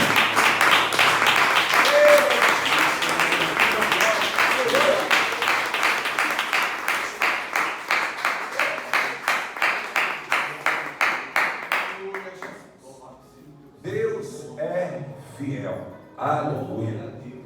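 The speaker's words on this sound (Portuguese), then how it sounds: "Peço que os irmãos aplaudam o Senhor nessa noite." A church congregation claps together in a steady, fast rhythm, loud sharp beats over a bed of crowd noise that carries on for about twelve seconds before fading, followed by a voice speaking.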